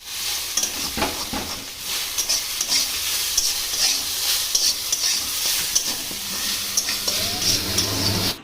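Okra chorchori being stirred in a frying pan, with a steady bright sizzle and repeated scraping strokes of a spoon across the pan, close and continuous throughout.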